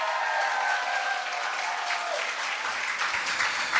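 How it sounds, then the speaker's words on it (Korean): Church congregation applauding during a Sunday worship service, a dense, steady wash of clapping that fills the room for several seconds, with a few voices cheering underneath. "다시 한번 영광의 박수."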